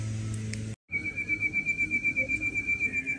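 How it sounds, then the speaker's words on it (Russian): Birds whistle after rain, giving a sustained high whistling tone with a rapid pulsing chirp rhythm, faint against quiet outdoor background. "Слышите, птички как засвистели, радуются."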